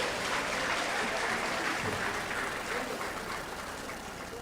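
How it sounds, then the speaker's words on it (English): An audience of women at a healthcare dinner applauding themselves, a steady wash of clapping that stays even and fairly distant, then fades slightly toward the end. "Give yourselves a round of applause."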